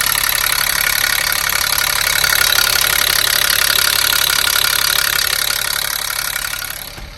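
A converted school bus engine idles steadily with a loud, continuous mid-pitched rumble and knock heard close up, then winds down and cuts off near the end.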